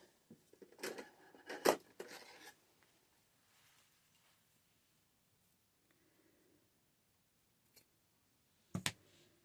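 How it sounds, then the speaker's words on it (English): Scissors snip through small paper craft pieces in a quiet room, a few quick crisp cuts near the start, then near silence with a couple of isolated clicks later on. "Get my scissors."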